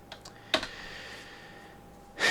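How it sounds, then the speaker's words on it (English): A single letter is typed on a computer keyboard. A few light, close key clicks are followed by one firmer keystroke, and a final click comes after a short quiet pause, all faint and without talk. "So I'm going to type in C."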